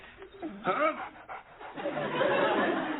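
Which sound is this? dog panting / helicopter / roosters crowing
dog panting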